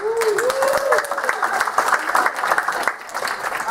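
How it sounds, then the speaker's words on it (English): Applause from a comic convention audience at a panel, dense steady clapping with cheering voices and a whistle-like tone, loud and close throughout. "Give him a round of applause."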